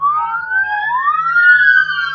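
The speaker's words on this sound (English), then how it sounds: "You can hear the sirens from this surveillance video given to Fox 4 from a nearby church." Wailing police sirens, recorded by church surveillance at the scene of a shooting at a birthday party, rise and fall in clear sweeping tones that sound moderately distant, with no voices over them.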